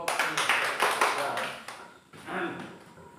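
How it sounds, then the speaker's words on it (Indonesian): A group of teachers in a training session gets short, scattered applause that fades after a second or so and then returns more softly, with voices talking over the clapping. "Tepuk tangan untuk kelompok ini."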